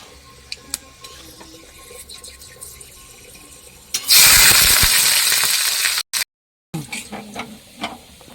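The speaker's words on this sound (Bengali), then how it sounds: "ওই যে দেখো আমার পেঁয়াজ ভাজা হয়ে গেছে" Onion frying in hot oil with bay leaf, dried chilli and whole garam masala, for a rohu fish kalia: a loud burst of sizzle as the onion hits the pan, then quieter kitchen clatter and handling noises.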